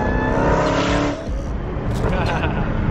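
A Dodge Hellcat's engine roars loud and close, revving hard with crackling exhaust pops as the tone shifts midway, and a voice talks over it.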